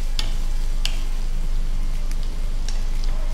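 Chopped onions frying in a pan for kotte biryani, a steady close sizzle with a few sharp clicks of stirring.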